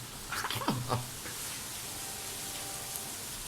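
Rain falls as a steady, faint hiss of drops on a surface. A brief vocal sound rises near the start, then the rain continues alone.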